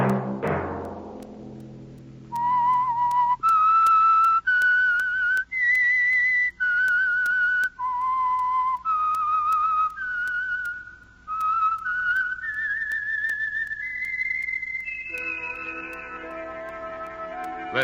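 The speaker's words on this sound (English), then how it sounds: "Let that whistle be your signal for the Signal Oil program, The Whistler" A single person whistles the eerie theme of The Whistler radio mystery show, a clear, solo melody of sustained pitched notes rising and falling, ending as an orchestra swells in.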